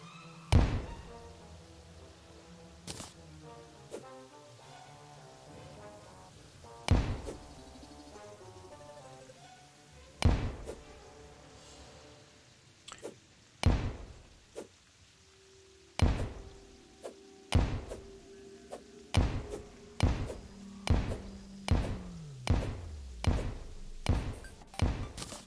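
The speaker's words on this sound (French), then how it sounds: "j'étais juste en train d'apprécier le fait qu'il y ait tout un tas d'explosions" Explosions in the video game Terraria, heard as repeated dull thumps. They come sparsely at first and then more rapidly in a steady series near the end. Faint game music plays underneath.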